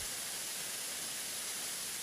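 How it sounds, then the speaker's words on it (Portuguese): A waterfall sound effect added in the KineMaster video editor plays as a steady, dense hiss of rushing water, loud and unchanging throughout, with no voices. "Adicionei o efeito de cachoeira."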